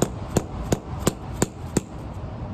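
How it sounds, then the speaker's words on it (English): A hammer strikes a plaster-filled silver handle six times at a steady, even pace, each blow a sharp close knock with a metallic edge. "I'm gonna hammer this and see if I can get it on video."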